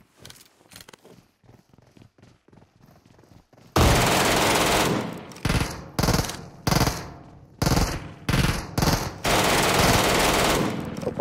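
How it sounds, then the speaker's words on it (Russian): Quiet scattered taps and clicks, then sudden loud bursts of rapid automatic gunfire in the video game Metro Royale, some continuous, others in short broken volleys, close and intense. "на станции стрельба"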